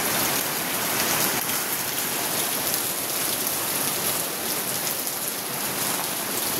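Torrential rain with large, hail-like drops drums without pause, a thick, loud wash of raindrops pounding nearby surfaces.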